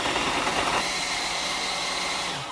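A blender whirs loudly while mixing frozen strawberries for ice cream, a dense steady roar with slight pitch changes as the chunks break down, close and alone.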